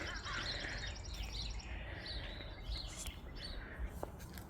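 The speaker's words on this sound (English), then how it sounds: "the birds are singing" Birds chirping and singing on a sunny spring morning, a steady layer of overlapping high tweets and calls over a constant low background rumble.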